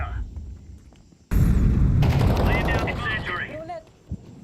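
In a tactical shooter video game, a flashbang grenade lands and bursts in a sudden loud blast with a ringing, hissing aftermath, following a faint quiet stretch; a voice talks briefly over the tail.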